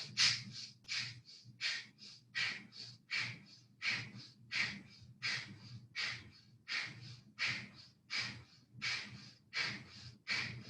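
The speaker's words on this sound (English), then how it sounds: "you're both inhaling and exhaling, forcefully contracting abs" Rapid, forceful bellows breathing during a HIIT yoga session, with steady rhythmic inhales and exhales about twice per second, close and fairly quiet with no talking.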